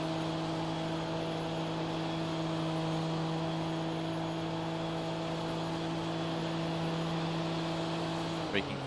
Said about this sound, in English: Braking for the final bus stop chicane.